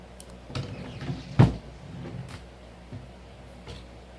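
A mirror is propped inside a drawer at a makeup table, producing a few soft wooden knocks and thumps, with one louder bump in the middle, close by and with no talk.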